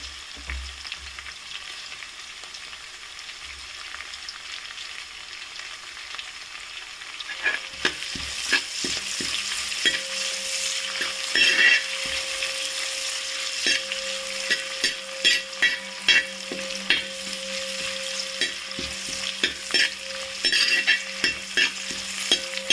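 Chili, ginger and garlic frying in a pan for beef chili with curry leaves, a quiet start giving way to a loud, crackling sizzle with repeated scraping stirs, close and without voices.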